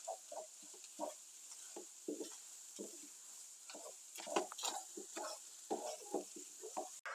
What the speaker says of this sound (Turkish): Hemen domates salçamı da birlikte kavuruyorum